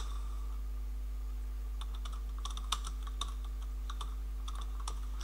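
Keys tapping on a computer keyboard while text is entered into an Adobe Illustrator layout, light irregular clicks in short bursts over a steady low electrical hum, close and fairly quiet.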